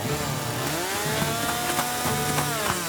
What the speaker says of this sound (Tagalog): At ang una kong nadampot ay ang chainsaw na nakita ko roon.